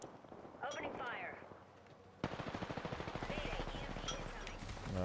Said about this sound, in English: Just got another squad attacking us. Opening fire.